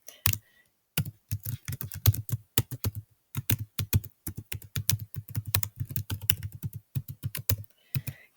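Rapid, uneven keystrokes on a computer keyboard as an email address is typed into a login box, close and clear, in bursts with a few short pauses and no talk.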